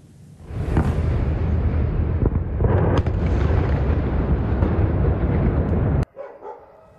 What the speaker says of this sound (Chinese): 清晨时分就可以看见加沙地带有飞弹火光划过夜空，现场更是传出了阵阵巨响